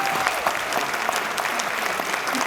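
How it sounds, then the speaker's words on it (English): Audience at a Carpinteria community awards banquet applauds its finalists, a steady, dense wash of clapping from a roomful of people, sustained throughout with no pause. "We should give another hand of applause for all of our finalists because they are so amazing."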